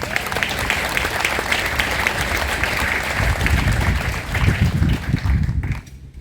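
An audience at a Veterans Day celebration gives board members, volunteers and city staff a hearty round of applause, thick continuous clapping that swells briefly before trailing off abruptly.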